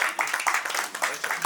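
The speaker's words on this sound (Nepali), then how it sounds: "कार्यकारिणी सदस्यमा मनोनित हुनुभएकोमा उहाँलाई तालीले स्वागत गरौँ।" A small group applauds a newly named executive committee member at a club's annual general meeting, with brief uneven clapping heard close over ongoing talk.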